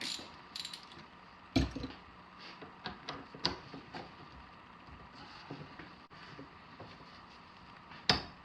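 Beta motorcycle rear shock piston slowly worked in by hand, giving a run of faint mechanical clicks and ratcheting ticks with a few sharper knocks, close and quiet with no talking.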